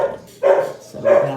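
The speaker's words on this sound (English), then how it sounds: "sorry about the barking." A dog barks twice, about half a second apart, fairly close with a sharp, mid-pitched bark.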